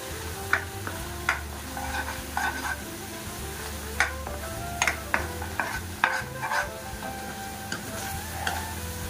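Papaya halwa with milk powder stirred in a pan, repeated close scraping and tapping spoon strokes over a soft sizzle, no voices.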